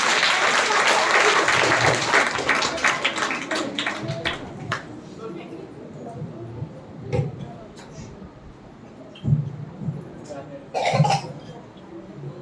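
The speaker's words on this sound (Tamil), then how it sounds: "அதுக்காகவே அவங்களுக்கு ஒரு கைதட்டு தரலாமா?" Applause from an audience greeting children dressed in traditional Tamil costume at a kids' programme, loud and dense at first, then thinning into scattered claps, coughs and taps with voices underneath.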